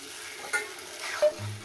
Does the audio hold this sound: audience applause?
no